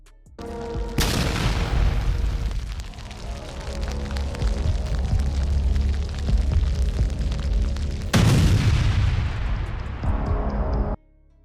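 An MT-LB armored vehicle explodes: a powerful blast booms loudly, followed by a sustained roar and crackle of flames, then a second heavy blast near the end.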